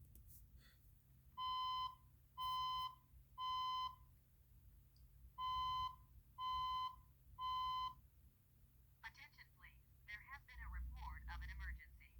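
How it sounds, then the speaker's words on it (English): An EST Genesis fire alarm speaker strobe sounds a code 3 pattern: two groups of three loud, steady tones with brief pauses between them, and talking comes in afterward. "the first part should be the code 3, the sound of it on the speaker"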